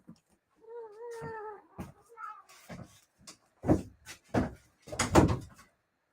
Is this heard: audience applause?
no